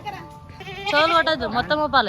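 A goat being readied as an offering to Lord Venkateswara bleats in several wavering cries close by, while a person talks over and between the calls.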